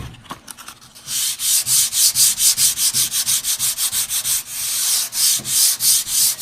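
Rhythmic back-and-forth sanding strokes rub across an oil-finished wooden tabletop, each pass a loud, close hiss repeating steadily with a brief pause near the middle, no voices present.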